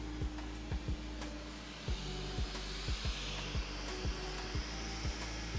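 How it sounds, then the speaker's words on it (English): A Bambu Lab X1 Carbon 3D printer runs a speed test, giving a steady fan-like whir with fast rhythmic motor thumps and stepper whines repeating about twice a second, close and fairly loud. "Get ready to catch the printer as it shakes itself off the table."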